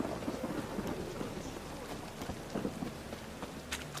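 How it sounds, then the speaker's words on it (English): Steady rainfall in The Witcher 3 video game, an even, continuous hiss of drops with a low rumble underneath and no voices. "Rain again. Damn mages."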